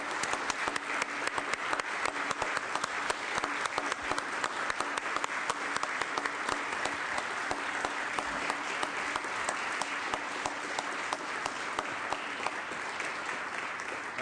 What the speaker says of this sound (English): Big round of applause for the Senate fellows